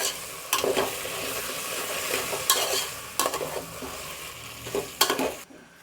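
Chicken with ginger garlic paste and slit green chilies being stirred in a pot: steady sizzling with repeated scraping strokes of a spoon against the metal, close and fairly loud, no voices.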